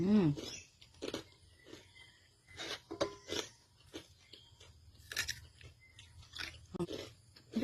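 Someone bites and chews crunchy Thai pork rinds with spicy eggplant salad, giving repeated crisp crunches close to the mic between spoken remarks.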